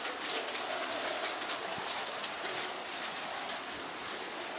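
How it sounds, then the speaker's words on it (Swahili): Heavy hailstorm rain in Iringa, a steady dense hiss of rain and hailstones pounding surfaces, continuous and loud throughout with a few sharper impacts and faint bird coos in the background. "Mvua inanyesha na hasira kali."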